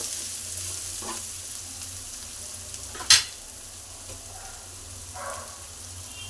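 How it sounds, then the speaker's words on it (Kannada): Capsicum rice being stirred in a pan with garam masala, salt and turmeric, a steady soft sizzle with scraping stirs and one sharp clank of a spoon partway through. "ಗರಂ ಮಸಾಲ, ಉಪ್ಪು ಮತ್ತು ಅರಿಶಿನ ಪೌಡರ್ ಹಾಕಿ ಮಿಕ್ಸನ್ನು ಮಾಡ್ಕೋಬೇಕು."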